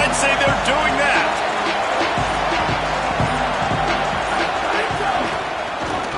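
A basketball crowd at an NCAA game roars with energy in a steady, loud wash of cheering and noise, with a ball bouncing repeatedly beneath it and a commentator's voice over the top.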